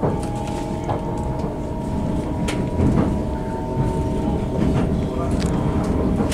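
A Southeastern Highspeed Class 395 train rolls through Kent, heard from inside the carriage. There is a constant low rumble with faint rail clicks, and voices murmur under the train noise.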